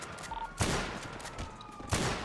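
Two sharp shotgun blasts from GTA 5 ring out about a second and a half apart, loud and broadband over a low ambient game background with no talking.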